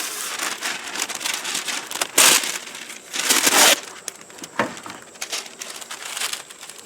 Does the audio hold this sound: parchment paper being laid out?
yes